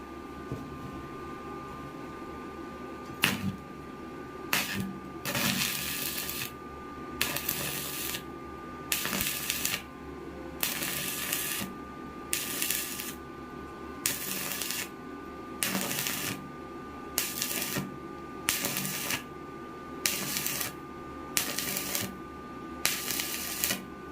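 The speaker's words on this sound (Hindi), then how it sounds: "पहले हम लोग ड्रॉप वेल्डिंग करके देखेंगे रोक रोक कर" Arc welding done as drop welding with stops, a series of regular crackling, buzzing bursts of a few seconds each separated by short pauses, steady and close.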